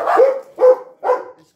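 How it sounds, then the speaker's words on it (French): Dogs indoors let out three loud, close barks in a steady rhythm, each short and sharp, with brief pauses between them. "Excusez-moi pour les chiens."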